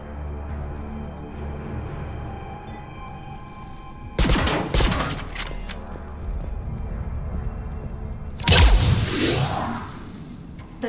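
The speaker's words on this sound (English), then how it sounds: "The Geth have a planetary defense cannon. It's ripping through our fleet." A Geth planetary defense cannon in Mass Effect 3 fires in two heavy, whooshing blasts several seconds apart over a low steady rumble, each discharge loud and close with a rolling tail.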